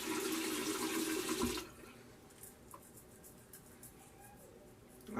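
A tap runs water to wet the face before shaving: a steady rushing stream for about a second and a half, then it shuts off, leaving a quiet room with faint small sounds.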